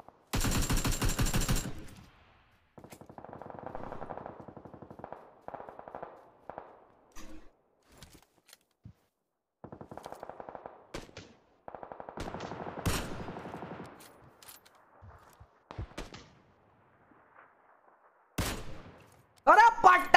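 Bursts of automatic gunfire in the PC Lite version of the battle-royale game PUBG, with a loud opening volley, several stretches of rapid shots, scattered single reports and a final loud burst. Brief voices occur among the shots.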